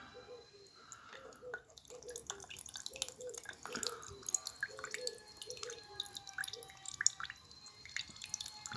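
Old fuel gone vinegar-like drips from the opened fuel valve of a Honda 500W generator in a quick, irregular patter of small wet drops, close and fairly quiet, with no talking.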